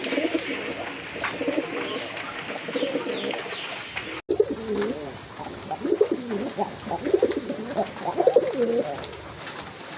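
Large Rajgolla Gorra pigeons kept for sale coo in repeated deep, throaty, rolling calls close by, with a brief knock midway, and birds keep calling for the whole stretch.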